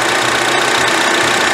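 A 2010 Honda CR-V engine idles steadily with a close, even mechanical hum and faint knocking vibration throughout, no talking over it.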